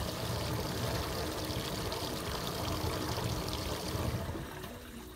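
Sump pump discharge water gushes and pours steadily through a drain pipe, a loud continuous rushing that eases slightly near the end.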